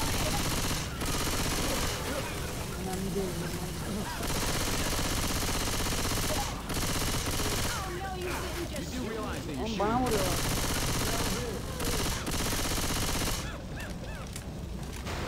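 In Left 4 Dead 2, an Uzi submachine gun fires in short rapid bursts among other game noise, with voices talking in between.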